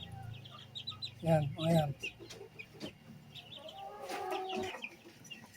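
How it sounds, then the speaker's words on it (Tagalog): Three-week-old Rhode Island Red chicks cluck and chirp in short, fairly quiet bursts close by, while someone speaks briefly between the calls. "Yung mga Rhode Island chicks natin, 3 weeks."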